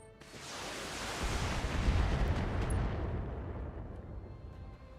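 Heavy turret fire in the BattleTech video game, where a sniper turret armed with four AC-2 autocannons shoots at a mech. It comes as a loud, rumbling explosive burst that swells for a couple of seconds and then slowly fades away.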